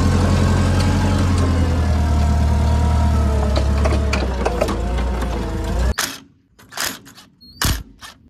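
A farm tractor moved out of a barn runs with a loud, steady engine drone for about six seconds, then the engine noise drops out, leaving quieter knocks and brief bursts.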